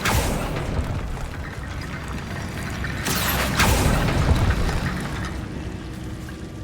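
A Confringo explosion spell cast in the video game Hogwarts Legacy, heard as a dense continuous rumble with two sharp bursts about midway, no speech.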